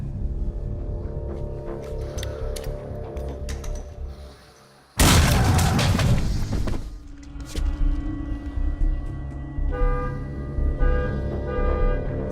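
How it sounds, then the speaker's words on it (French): A grenade explodes with a sudden loud broadband blast that cuts through a quiet, low-humming scene in a French zombie film, the roar decaying over about two seconds before the ambient rumble returns. "Grenade!"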